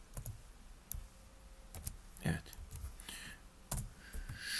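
Keys on a computer keyboard click in scattered taps and short clusters, faint and close, with a soft voice murmuring between keystrokes.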